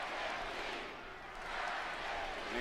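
A wrestling arena crowd cheering for Dragon Lee during a WWE Raw match against Gunther, a broad sustained roar that swells and dips, with commentary voices over it.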